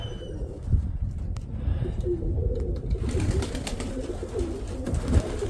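Pigeons coo in a low, steady murmur from a loft or yard, with several birds overlapping continuously and a few brief chirps and rustles on top, no talk.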